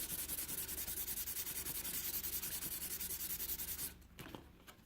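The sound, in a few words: light hand sanding of wood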